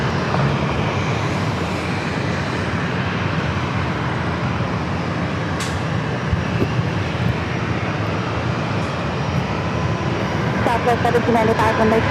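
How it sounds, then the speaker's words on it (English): A Southwest Airlines Boeing 737-800 at San Diego airport taxis toward runway 27, its broad steady jet engine roar filling the scene at constant loudness, with faint voices in the background. "Southwest Airline Flight 1795 heading back to Austin, 737-800 heading down to runway 27."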